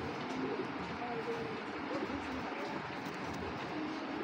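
Pigeons kept in a breeder's flock, including a large hen, give soft, repeated cooing calls under a steady, fairly loud background hum.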